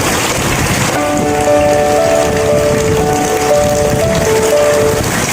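Steady rain falling in an animated drama scene, a constant broadband hiss with sustained soft musical tones layered over it, no voices.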